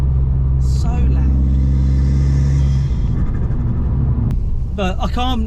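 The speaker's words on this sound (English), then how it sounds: "It's just so loud in the cabin." Loud cabin noise inside an Abarth 500 on the move: a heavy, constant low engine and road rumble fills the car, with a voice speaking briefly over it.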